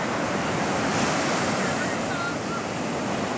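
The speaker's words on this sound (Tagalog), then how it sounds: "Napakalakas ng alon sa Baler." Strong ocean waves crashing at Baler beach, a broad continuous roar of surf with heavy wind buffeting the microphone, loud and steady throughout.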